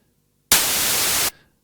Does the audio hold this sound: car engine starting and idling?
no